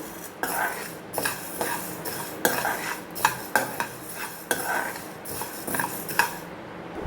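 A spoon stirs dry-roasted spices in a pan for homemade kuzhambu chilli powder, making close, loud, rhythmic metallic scrapes and clinks repeated about once a second, with no talking.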